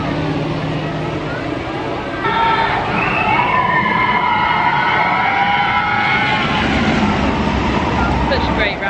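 A Florida theme park ride running backwards passes nearby. A loud, continuous rumble carries rising and falling tonal whines and squeals from the track over busy crowd noise.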